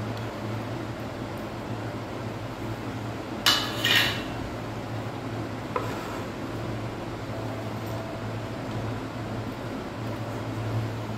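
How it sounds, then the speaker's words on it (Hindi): Two brief clinks and rattles of a mixer-grinder jar being set down and handled while paan is added, over a steady low hum in a quiet room. "अब ये देखिए मिक्सी का जार में ले रही हूँ"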